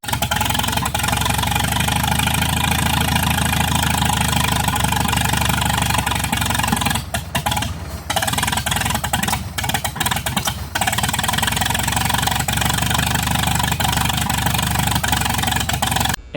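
A 1941 Farmall M tractor engine runs steadily near the listener just after being brought back to life, its uneven, loping idle thudding and clattering continuously, with a few brief dropouts in the middle.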